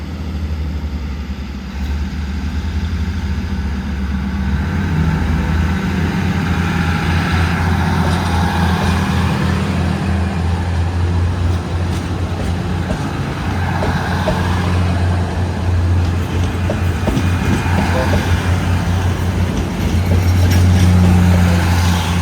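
A battery electric locomotive's heavy drive rumbles steadily with a low droning hum, growing slightly louder as the train pulls away from Lat Krabang, Thailand, with no voices.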